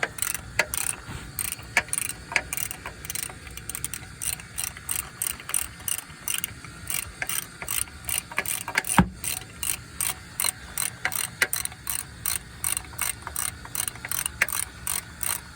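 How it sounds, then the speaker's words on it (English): A ratchet wrench clicks in quick, regular bursts while removing the front engine mount on a Dodge Avenger. The strokes are close and steady, with short pauses between them and no talking. "Let me get my ratchet, we can finish the job here."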